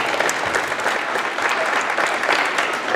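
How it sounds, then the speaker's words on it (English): Steady applause from a crowd, dense clapping filling the whole stretch at an even, moderately loud level. "let's give them a round of applause."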